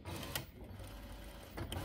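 A JUKI DDL-8700-7 industrial sewing machine runs steadily up close, its motor humming continuously with sharp clicks at the start and end as the presser foot moves.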